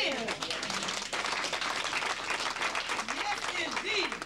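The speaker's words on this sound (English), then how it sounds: "Give yourselves a hand." Audience applause at a Kangen Water testimonial event in Florida, sustained and dense clapping from a crowd filling the whole stretch, with voices and cheering mixed in.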